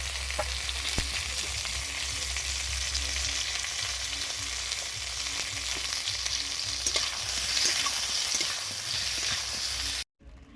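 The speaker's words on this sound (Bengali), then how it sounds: "নুন হলুদ দিয়ে বেগুনগুলো ভেজে নিচ্ছি।" Eggplant slices seasoned with salt and turmeric fry in hot oil, giving a steady, close sizzle with small crackles throughout. No voices are heard, and the sound cuts off abruptly at the end.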